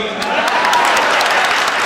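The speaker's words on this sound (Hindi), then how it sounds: "ताली कमजोर है आपकी।" Audience applause at a Hindi comedy poetry stage show, a continuous wash of clapping from a crowd, fairly loud, with a voice talking over it.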